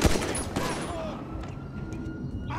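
GTA 5 video game shootout between cops and gangsters: a loud initial shot followed by dense, continuous gunfire and noise that stays heavy throughout, with a faint electronic tone running underneath.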